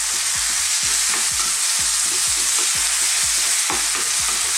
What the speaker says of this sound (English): Now I'm going to add some fresh tomatoes. I've roughly chopped these.